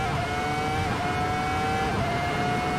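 A race car engine in the Assetto Corsa racing simulator holds a steady, loud, high-pitched whine under sustained throttle, running continuously with only a slight shift in pitch near the end.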